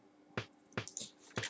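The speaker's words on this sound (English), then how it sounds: "That's another really pitched down snare. It's fully pitched down." Pitched-down snare drum sample from a music production session, struck three times at uneven intervals, each hit a short, dull, quiet thud with a brief noisy tail.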